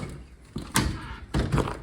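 A door pushed open outdoors against piled snow at night, giving two dull, heavy thuds about half a second apart, close and fairly loud with no talk.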